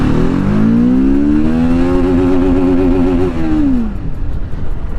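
A TVS Apache RTR 310 motorcycle in sport mode accelerating hard, engine pitch climbing steadily through the revs, loud and close, then easing off with wind rush.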